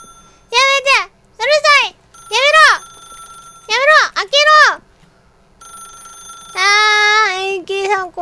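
A telephone rings in The Stanley Parable as repeated bursts of a bright electronic trill, five short rings with gaps and then a longer sustained ring, loud and close with no talking over it.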